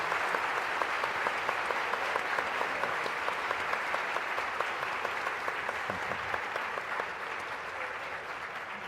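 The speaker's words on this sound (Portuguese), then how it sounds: "Uma salva de palmas para eles, por favor." Steady audience applause at a public talk on drug policy, dense even clapping with a few louder individual claps standing out, held at moderate distance and fading slightly toward the end.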